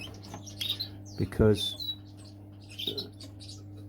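Canaries in a breeding cage give short chirps and tweets scattered across a few seconds, close by, with a voice briefly speaking under them.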